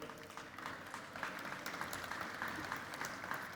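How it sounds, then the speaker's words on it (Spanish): Conference audience applauding as a speaker is welcomed to the stage, a steady wash of clapping from a sizable crowd, fairly distant and even in level for several seconds, with no speech over it. "Un aplauso, por favor, para ella."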